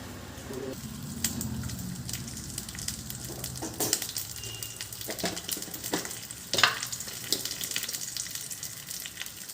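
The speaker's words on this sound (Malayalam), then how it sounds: "കടുകിട്ടു തുള്ളി വെളിച്ചെണ്ണ ഒഴിക്കുക കുറച്ച് വെളിച്ചെണ്ണ" Mustard seeds fry in hot coconut oil, sizzling and crackling steadily with scattered sharp pops and occasional stirring scrapes, close by and moderately loud, no voices.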